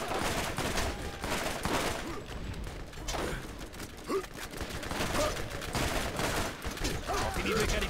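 Rapid gunfire in the PC video game Borderlands, dense bursts of sharp shots in quick succession throughout, with someone talking over the shooting.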